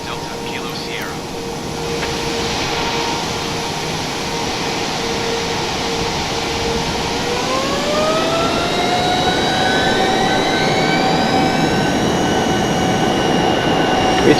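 The experimental Darkstar hypersonic jet's engine in a flight simulation game gives a loud, steady turbine whine and rumble that rises in pitch midway, with radio talk over it.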